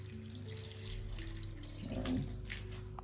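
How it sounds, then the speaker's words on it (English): Tap water runs steadily into a bowl of potatoes to cover them, a close, continuous splashing fill with a slight rise in pitch as the bowl fills, heard alone with no talking. "So I'm adding enough water just to cover the potatoes"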